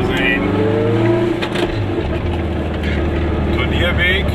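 A car cruises along a country road near Berkenthin in Kreis Herzogtum Lauenburg, Germany, with a loud, steady engine drone and road rumble inside the cabin, the engine pitch shifting partway through.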